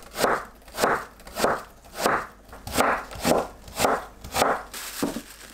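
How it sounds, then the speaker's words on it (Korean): A knife slices half an apple into thin julienne strips on a board, giving about ten steady, evenly spaced crisp cuts, close and clear with no voices. "사과 반 개를 채 썰어주세요."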